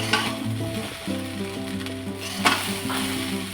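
Fried rice with cashews and raisins sizzles in a pan as it is stirred, with a few scraping strokes over a constant crackle and sustained tonal sounds in the background.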